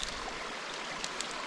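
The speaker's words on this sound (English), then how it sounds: "You can see the main part of the creek actually flows on the other side of this log." Creek water runs past a log with a steady, close broadband rush and splash, an even wash of flowing water with a few brief bright spatters and nothing else heard.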